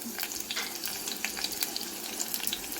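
Onions frying in a pan with cinnamon and cloves, a dense, close, crackling sizzle with sharp pops throughout and no talking.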